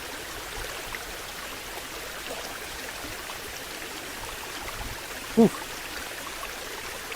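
Steady rushing wash of water from a powerful waterfall and its stream at Curug Seribu, a broadband roar at moderate level that continues throughout, with one brief louder sound near the end.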